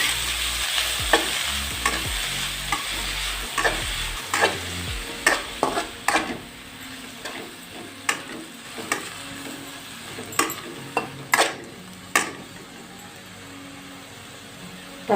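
Finely chopped spinach fries in a pan for palakura pachadi, a steady soft sizzle broken by repeated sharp clinks and scrapes of a spoon stirring against the pan.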